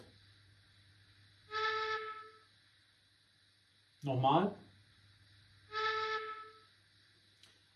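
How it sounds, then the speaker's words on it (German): Two short, bright shunting whistle toots from a Märklin 37897 Class 50 H0 digital model steam locomotive, clearly separated, with a brief spoken word between them; a quiet low hum sits underneath throughout. "F8 ist dann der Rangierpfiff, also der kurze Pfiff."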